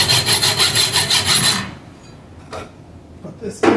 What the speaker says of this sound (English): Cut it a little bit long on that Sharpie mark. Get over the edge of the hacksaw where it's less dull.